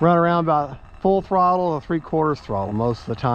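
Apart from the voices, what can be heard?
No everyday noises stand out.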